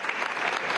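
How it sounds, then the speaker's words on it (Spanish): Audience applause for Nicolás Maduro at a summit of Afro-descendant leaders in Harlem, a dense, continuous patter of many hands, moderately loud and steady for a moment. "pueden aplaudirle aún más fuerte a Nicolás Maduro"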